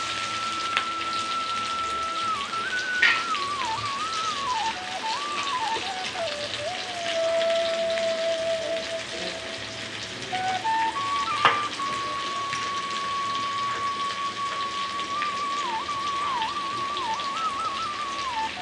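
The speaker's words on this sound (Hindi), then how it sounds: "बहुत हल्की फ्राई करेंगे इसको" Green beans for paneer fried rice fry lightly in a pan, giving a steady soft crackling sizzle throughout, with a sustained whistle-like tone drifting in pitch above it and no talking.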